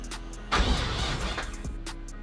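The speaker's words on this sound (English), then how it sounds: "when you just tap this button, it'll just keep cranking over for however many seconds you want to set it for" A car engine cranks over on its starter, triggered by a PDM button, in a short burst of close, rhythmic churning that begins abruptly and runs for just over a second.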